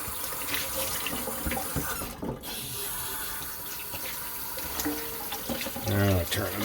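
Hot water runs steadily from a tap at a sink, a continuous rushing splash near the microphone with no voices over it, briefly dipping before resuming.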